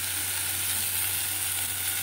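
Masoor dal frying with cumin and coriander powder over very low heat, a constant even hiss of sizzling close by with a low steady hum underneath, no voices.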